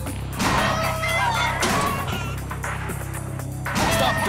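Chickens cluck and crow in the video game Blue Estate, their calls mixed into a busy, loud game soundtrack with steady background tones.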